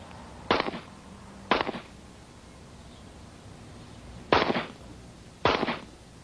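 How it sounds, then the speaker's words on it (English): Four sharp gunshots ring out at target practice, fired by a former Army Ranger sharpshooter, each a loud crack with a short decay, spaced irregularly across a quiet outdoor background. "At target practice, his alter personalities take turns shooting."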